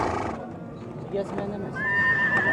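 A horse at a busy livestock horse market in Nookat gives a whinny partway through, set against crowd noise and nearby people talking.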